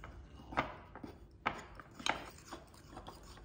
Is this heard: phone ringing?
no